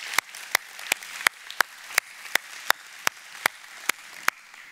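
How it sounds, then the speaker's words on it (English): A small church congregation gives a round of applause on a Sunday morning, heard as a run of sharp, evenly spaced claps, about three per second, fairly close and with no talking. "could we just give those guys a round of applause this morning?"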